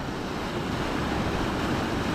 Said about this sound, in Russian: Сильный порог здесь такой.